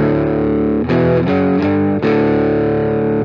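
An electric guitar plays through a Stax Odrive-1 overdrive pedal, giving a loud, distorted tone with several sustained chords and note changes, heard alone.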